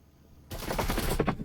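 Gunfire through walls in the VR game Breachers, a sudden rapid automatic burst starting after a quiet moment and continuing loud and close to the end, no talk.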